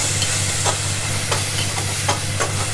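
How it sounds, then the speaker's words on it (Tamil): Ingredients being sautéed in a pan for a chapati side dish, with a dense continuous hissing sizzle and periodic spatula strokes about every half second, close and loud, no talking. "நல்லா இது பச்சை வாடை போன வரையிலும் வதக்கிக்கோங்க"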